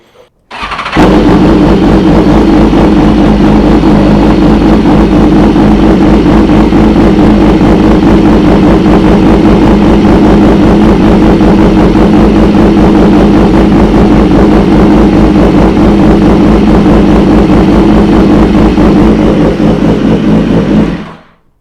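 A BMW HP4 superbike fitted with an SC Project exhaust, its engine held at a loud, steady high roar for about twenty seconds after a brief start, close and alone.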